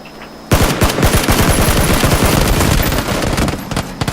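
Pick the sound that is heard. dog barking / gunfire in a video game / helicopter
gunfire in a video game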